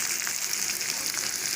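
Mustard seeds sizzling in hot oil, a steady bright hiss and crackle close up, with no talking.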